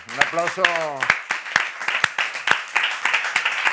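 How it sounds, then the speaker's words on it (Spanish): A studio audience bursts into applause on a Spanish TV quiz show, with loud, sharp claps in a ragged rhythm while a person's voice is heard speaking briefly over the start. "Un aplauso"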